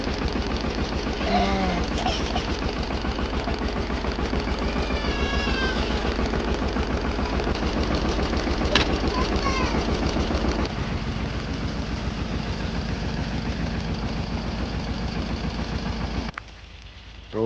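A tractor engine idles outdoors in a village in the early morning, a loud, steady low rumble that continues throughout, with faint animal-like calls over it before it cuts off near the end.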